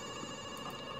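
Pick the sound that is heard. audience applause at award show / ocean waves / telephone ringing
telephone ringing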